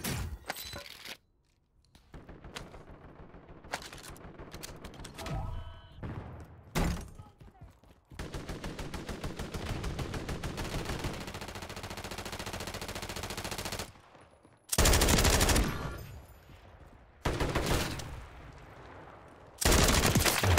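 Call of Duty Warzone 3 gunfire in bootcamp play, with bursts of automatic fire, single loud shots and sharp explosive cracks in irregular volleys, alongside a long stretch of sustained rattling shooting.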